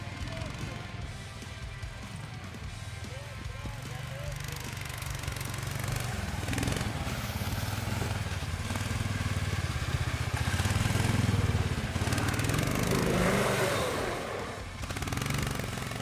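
A homemade snow sled powered by a 20 HP engine runs steadily at a winter sled competition, a continuous low motor drone swelling slightly toward the end with crowd noise and voices in the background.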